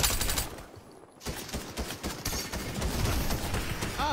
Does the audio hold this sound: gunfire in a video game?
yes